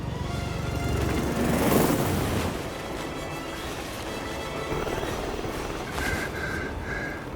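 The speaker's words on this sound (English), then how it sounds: "Alexa Carlisle's helicopter just took off" A helicopter lifts off in the video game Hitman 3: a broad, steady rotor and engine roar that swells briefly, then holds at an even level, with a few faint electronic beeps near the end.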